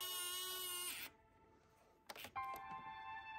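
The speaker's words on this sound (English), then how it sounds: "Push that bugger down and replace the screw back into its original slot." A small electric screwdriver drives a screw to secure an SSD inside a PS5 console in two short whirring bursts. The bursts are separated by a pause with a few clicks, are close up and fairly quiet, and no one speaks.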